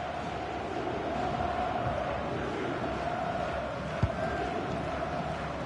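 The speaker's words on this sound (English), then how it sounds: "Well, just listen to this crowd." Stadium crowd in a FIFA football video game during a Fenerbahce match, a steady, dense roar of many voices holding constant throughout, with one brief thump near the end.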